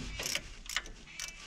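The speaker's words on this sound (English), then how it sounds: "I just got my ratchet with a little extension on it, 1/2 inch socket." Ratchet with an extension and a 1/2 inch socket loosening bolts on a 1957 Chevy during fuel pump work, three quick close clicking bursts in succession.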